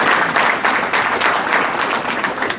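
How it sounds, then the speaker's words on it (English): An audience claps together in a dense, lively burst of applause that carries steadily at close range for a few seconds. No one speaks over it. "Give a round of applause."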